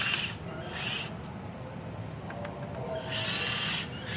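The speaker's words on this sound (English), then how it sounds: "I'm going to go ahead and take out all 3 of these Torx." Torx screws being backed out of an EGR valve sensor on a Ford Powerstroke diesel engine, heard as a few bursts of power-driver whir separated by quieter pauses, close and steady.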